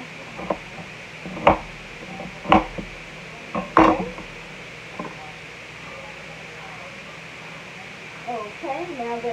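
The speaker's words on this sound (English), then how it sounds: "I'm going to cut this onion up really fast." A knife cuts quickly through an onion on a board, giving a handful of sharp, separate chops spaced a second or so apart, fairly close, with soft kitchen background and faint talk near the end.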